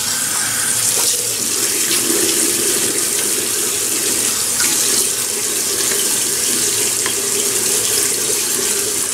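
Tap water runs steadily into a sink for a face wetting before a shave, a continuous loud splashing rush with no talking.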